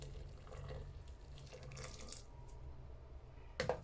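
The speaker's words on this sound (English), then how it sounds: "I'm gonna add some water to cover it with a little seasoning." Boiling water runs steadily into a pot, a soft continuous rush, ending with a brief clink of contact near the end.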